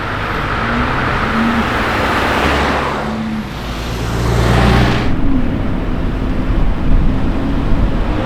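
A Lamborghini Evo Spider with a V10 sweeps past in steady road noise, a broad engine roar swelling near the middle and fading, then another loud engine surge building late and holding over background traffic.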